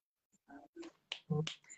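Fingers snap up close, about five crisp separate clicks in an uneven rhythm over less than two seconds, with silence between them.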